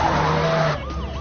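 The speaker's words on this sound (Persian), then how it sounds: "اکنون گاز را زیر کن." A car engine roars hard under full throttle, its steady drone cutting off abruptly partway through, followed by a thinner, swooping tone like a tire squeal or passing siren.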